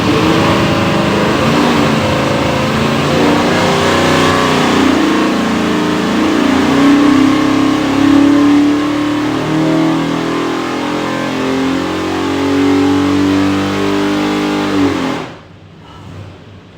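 A 632 cubic inch big block Chevy V8 for an airboat, run hard on a dyno with a custom oil pan, roars loud and steady with rising revs for about fifteen seconds before cutting off abruptly into near silence.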